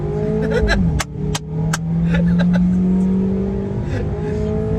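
A Fiat 500 accelerating hard, its engine revving up with a rising whine and several sharp exhaust crackles and pops. The car sounds loud and close, as if heard from inside it.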